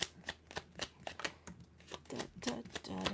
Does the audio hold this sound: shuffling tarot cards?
yes